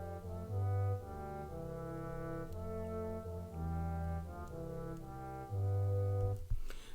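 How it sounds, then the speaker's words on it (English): Trombone and tuba play a bass line together in unison, low sustained notes moving in a slow stepwise rhythm with some held longer tones, clean and close with no talk. "you notice now the trombone and tuba are together"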